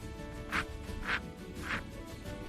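Three quacks sound at a steady, even pace over a faint background, close and clear.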